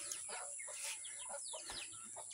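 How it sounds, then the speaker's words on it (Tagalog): Several chickens cluck and chirp softly at a distance in their range area over a faint steady background hum, with no clear voices. "So, yung mga manok natin, medyo gutom na."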